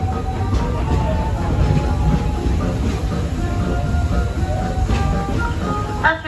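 The Walt Disney World Railroad steam train rolling along its track at Magic Kingdom, a steady loud rumble with faint clacks heard from aboard, with a voice talking throughout.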